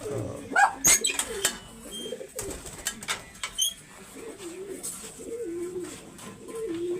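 A large pigeon coos close by in a few rolling, throaty phrases, with sharp knocks and rustles early on and a faint voice in the background.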